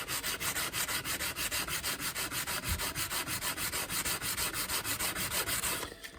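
Fine-grit sandpaper rubs back and forth across the metal frets of a cigar box resonator guitar in a steady, rapid rhythm of close, hissing scrapes that continue for several seconds before stopping.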